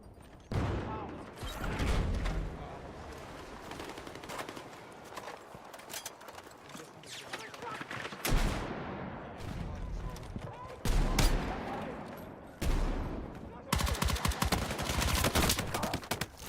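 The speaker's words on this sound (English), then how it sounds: "Enemy machine gun." Enemy machine gun fire in a multiplayer shooter, with repeated bursts of rapid shots over the whole stretch, some close and loud, others more distant, mixed with other battle noise and players talking.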